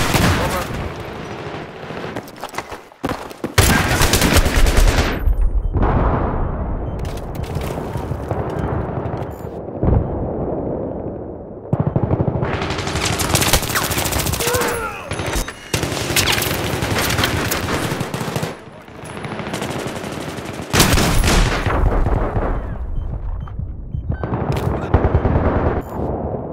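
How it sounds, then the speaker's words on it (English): Battlefield 3 Close Quarters Conquest Domination on the Ziba Tower map, with loud, dense machine gun fire and gunshots in long sustained bursts, heavy overlapping volleys broken by brief lulls. "I spotted a hostile machine gun."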